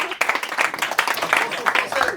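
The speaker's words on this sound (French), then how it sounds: "Normalement vous applaudissez, normalement." An audience at a stand-up comedy show claps in a dense, steady patter of applause, fairly close and continuous for a couple of seconds, with a voice speaking over it.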